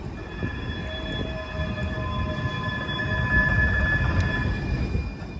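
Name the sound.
Siemens S200 (LRV4) light rail train of San Francisco Muni Metro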